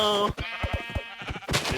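A sheep bleats in the video game Minecraft, several short wavering calls in quick succession, clear and close.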